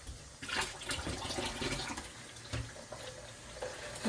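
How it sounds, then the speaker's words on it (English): Water pouring into a pot of oxtail, an uneven splashing gurgle that surges and eases over a few seconds, close and fairly quiet. "I don't want to put too much water,"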